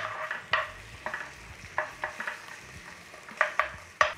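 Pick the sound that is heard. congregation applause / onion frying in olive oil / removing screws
onion frying in olive oil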